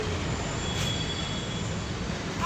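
A metro train pulls into a station with a steady rumbling roar and a thin, high wheel squeal running through it. The sound is close and continuous, and no one speaks.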